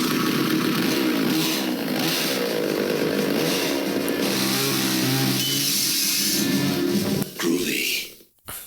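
Chainsaw hand from the Evil Dead films revving loudly and continuously for about seven seconds, its droning engine note wavering with voices mixed in, before cutting out abruptly near the end.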